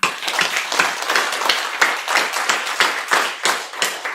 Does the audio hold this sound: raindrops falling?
no